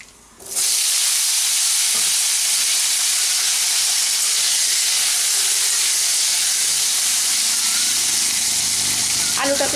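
Cut potatoes hit hot oil seasoned with black cumin, and a loud, steady sizzle rises abruptly and holds for several seconds, close and continuous with no talk over it.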